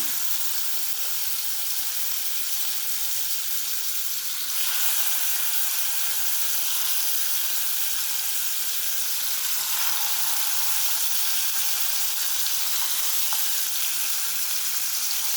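Prawns sizzle steadily in a hot pan, a dense, bright hiss that swells louder a few seconds in and keeps crackling evenly throughout with no voices.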